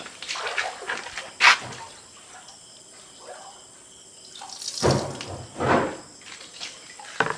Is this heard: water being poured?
yes